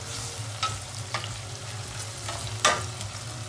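Steady sizzle of vegetables frying in a pan, with a few sharp scrapes and clinks of a utensil stirring at irregular moments.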